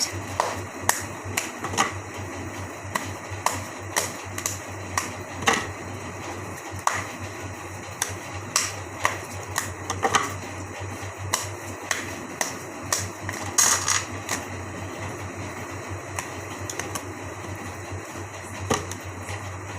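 Tarot cards are shuffled by hand in a quiet room, giving a long run of crisp, faint snapping clicks in a loose, fairly regular rhythm.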